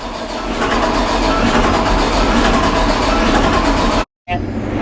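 A CLAAS Lexion 760 combine harvester engine runs with a loud, steady, close-up roar and rumble, interrupted by a momentary dropout before continuing.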